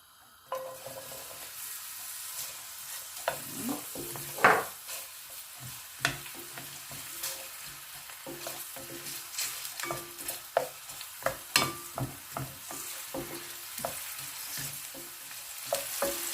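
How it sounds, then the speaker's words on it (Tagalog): Onion sautéing in a pan for ginisang repolyo with chicken, a steady soft sizzle broken by repeated scraping stirs and light clinks of the utensil against the pan, with no talking. "igigisa ko na yung ating sibuyas"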